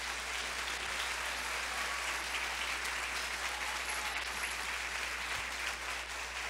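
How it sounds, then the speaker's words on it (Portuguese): Church congregation applauding during a sermon, a continuous dense patter of many hands clapping at a distance, fairly faint and even throughout, with a low steady hum underneath. "Agora, aplauda ao Senhor,"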